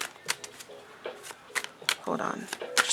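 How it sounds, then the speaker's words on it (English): Tarot cards riffled and shuffled in short, crisp bursts, close to the microphone, with brief pauses between shuffles. "Just do a light shuffle first."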